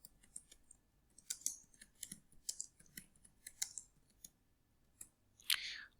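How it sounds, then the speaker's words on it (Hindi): Scattered keystrokes on a computer keyboard while a roll number and name are typed in during an office software exercise, irregular clicks and short bursts, fairly quiet in a still room. "24680 जो आपका रोल नंबर है वो टाइप करेंगे आप"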